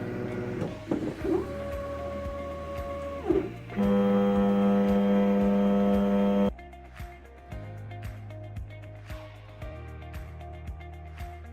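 A 3D printer starts to print with a run of close, mechanical stepper-motor tones. Whines shift in pitch, then a sustained steady buzz holds for a few seconds before softer, varying motor hums follow.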